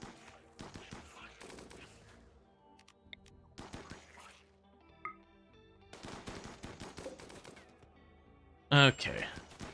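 Bursts of gunfire ring out in the colony game RimWorld as pawns shoot at an insect hive, several clusters of rapid shots separated by quieter gaps, with a brief louder effect near the end.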